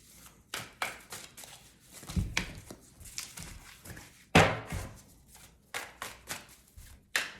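Tarot cards being shuffled close by, in repeated soft riffling bursts and taps with pauses between, fairly quiet and without talk.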